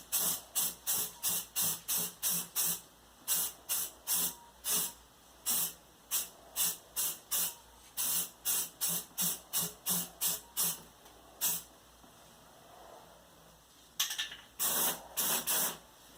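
An aerosol can of spray primer sprays light coats onto rusty metal around a bathtub overflow drain, giving many short close hissing bursts in a fairly regular rhythm with brief pauses between them.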